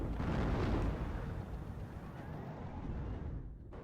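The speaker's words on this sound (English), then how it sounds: "Some artillery firing from this side now towards the centre." Artillery fires in the WARNO real-time strategy game, a heavy, rumbling boom that swells and rolls off over several seconds, loud and alone.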